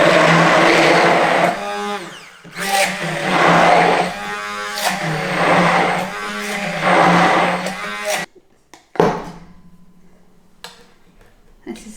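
A blender whirs through silken tofu in loud pulsing bursts with a droning motor hum that rises and dips for several seconds, then cuts off, leaving short rattles and a quieter, fainter hum.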